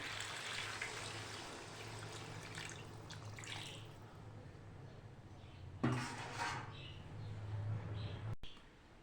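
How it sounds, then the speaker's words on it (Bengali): Water is poured into a pot of cooking chicken curry with potatoes, giving a faint trickling splash that swells into a brief louder gush near the end. "কষানো হয়ে গেছে, এবার দিয়ে দিচ্ছি জল।"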